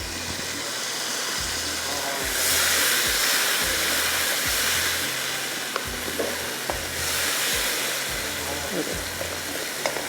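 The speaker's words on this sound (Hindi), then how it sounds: "थोड़ा सा बस आपने भुनाई कर लेनी है।" Boiled peas sizzle and are stirred in a pan with spices, a steady frying hiss with occasional scraping knocks of the spoon; someone speaks briefly over it.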